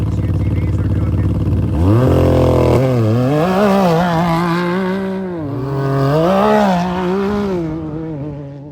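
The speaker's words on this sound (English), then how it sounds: "These UTVs are cooking." Several UTVs race through desert qualifying for the Vegas to Reno off-road event, engines loud and close, revving in rising and falling sweeps as one machine accelerates hard and pulls through gears, with a brief moment of talk mixed in.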